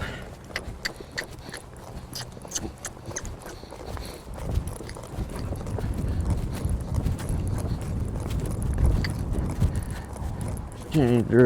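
Horse hooves at an extended trot in a riding session, a steady run of dull, rhythmic footfalls building through the middle and staying fairly loud, with faint rustle and movement around them.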